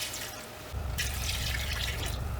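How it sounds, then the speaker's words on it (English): Water pours into a pot of rinsed and drained navy beans, a soft splash that begins suddenly and keeps up as a steady gushing fill. "we want to add 6 cups of water."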